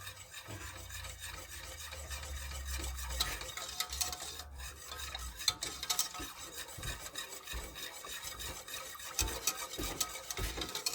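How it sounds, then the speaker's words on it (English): A spoon scrapes and rubs around a pot as a cream of chicken soup mixture is stirred, quiet and close, in irregular swishing strokes with a few louder knocks, no voices. "So I'm going to go ahead and mix this up really well."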